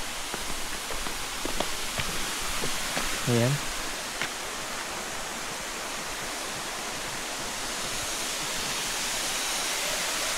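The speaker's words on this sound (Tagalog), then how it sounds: "At syempre nakaka-relax talaga yung halagaslas ng tubig." Water rushes continuously at Tabag Falls in Marinduque, a broad steady roar that fills the whole stretch. A voice speaks briefly near the start, and a few faint clicks sit over the water.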